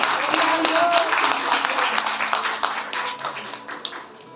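A church congregation claps in a loud, dense burst that fades over a few seconds, with a voice speaking over it.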